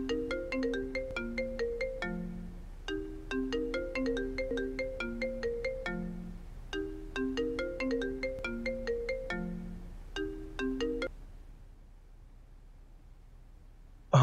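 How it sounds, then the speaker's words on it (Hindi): A phone ringtone plays a repeating melodic tune in two clear phrases for about eleven seconds, fairly loud and close, then stops, leaving quiet room tone in a domestic drama scene. "तुम्हारा फोन बज रहा है।"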